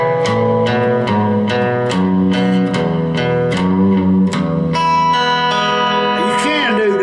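A lap steel guitar plays a lick striking two strings at a time, with a series of plucked double notes followed by a sustained sliding chord that bends and fades, close and clear with no talking.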